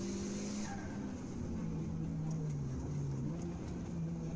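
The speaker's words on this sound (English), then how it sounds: "Is that turbo blowing?" A car in a Malaysian street race runs hard with a loud, steady engine drone and a brief high whine at the start, the engine tone dipping and wavering as it works through tight turns.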